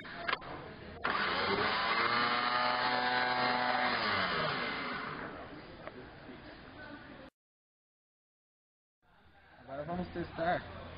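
A car starter motor spun on a test bench in a training workshop, giving a steady whirring drone with rising harmonics for several seconds, then silence before a brief second burst.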